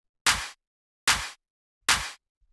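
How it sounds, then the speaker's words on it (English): Three layered clap samples in FL Studio hit in an even rhythm about 0.8 seconds apart, each a sharp crack with a short tail, dry and close, with a faint thump at the end. "I've got two layers of claps."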